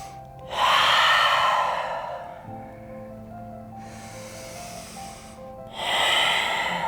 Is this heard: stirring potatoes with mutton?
no